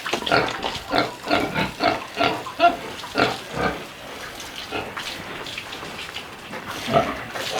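Pigs grunting in short, repeated bursts at close range while being showered, with a faint splash of running water from a hose in the background.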